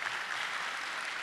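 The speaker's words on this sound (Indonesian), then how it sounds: "Tepuk tangan buat tukang tepuk tangan." Steady, dense applause from a talk show audience at a conference session, a continuous wash of clapping at moderate volume with no voices over it.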